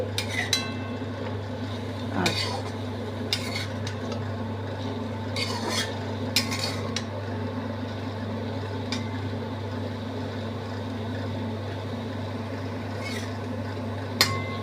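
A spoon scrapes and turns cauliflower in a pan of curry with fennel and green chilli paste, giving a few soft rasping strokes over a steady low kitchen hum, with no talk.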